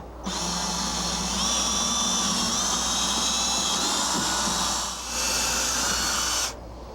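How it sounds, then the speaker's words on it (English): Power drill boring bolt holes through the mahogany deck of a 1966 Bertram boat for a seat pedestal, a steady close whine lasting about six seconds with a brief dip midway. "now what I'm going to do is I'm going to drill all of those pencil marks that I made for"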